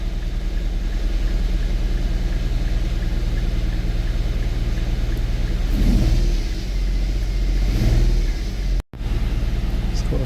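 An Infiniti M35 engine idles with misfires, a loud low rumble with uneven pulsing and a couple of brief swells, while a person talks over it.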